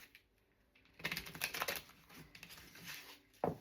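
Soft rapid riffling and slapping of tarot cards being shuffled, a few crisp bursts close by, followed by a sharper tap at the end.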